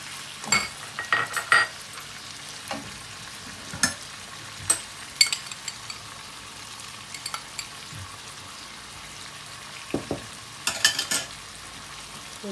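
Chicken karahi with tomatoes and green chillies frying in a pan, a soft continuous sizzle broken by repeated sharp clinks and scrapes of a spoon stirring against metal, with no talking.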